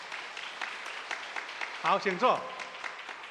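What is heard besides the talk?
congregation clapping hands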